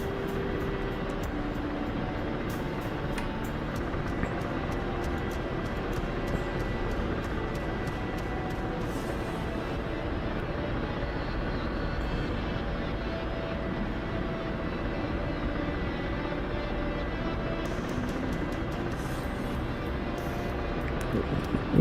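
Helicopter hovering in a video game, a continuous loud rotor and engine drone filling the scene steadily, with no talk over it.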